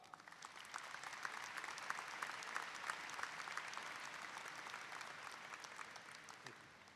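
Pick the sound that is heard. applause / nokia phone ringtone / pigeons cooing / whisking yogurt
applause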